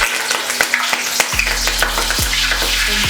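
Whole spices and bay leaves stirred in a hot pan for mushroom biryani, with light scraping clicks over a steady oily sizzle that swells louder partway through, close and without talk.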